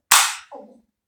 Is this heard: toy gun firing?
yes